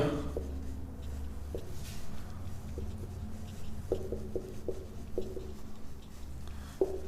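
Marker or chalk writing on a classroom board during a chemistry lesson, with a steady run of short scratchy strokes and taps at a moderate distance over a low room hum. No one speaks.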